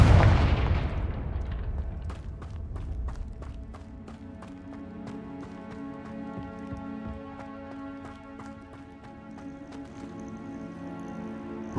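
In Hogwarts Legacy, a Confringo blasting spell goes off with a heavy boom at the start that rumbles and fades. A steady run of light taps and footfall-like ticks follows over soft ringing game ambience.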